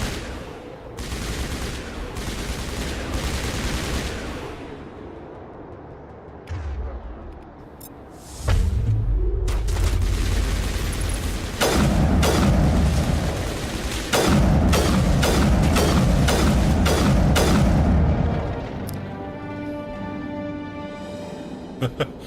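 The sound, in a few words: gunfire in the video game Mass Effect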